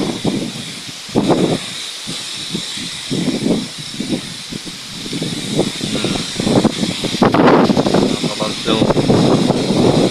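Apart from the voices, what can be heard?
strong typhoon wind blowing through trees, Typhoon Kristine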